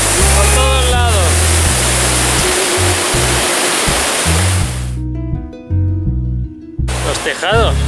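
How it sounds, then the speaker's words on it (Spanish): A waterfall in the Faroe Islands roars as loud, steady rushing water. Partway through the rush cuts out and tonal music and other sounds take over, then it returns. "Y hay un montón de cascadas así, por todos lados."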